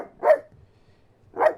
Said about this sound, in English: He barked, not a simple hello bark, but a deep, resonant alarm call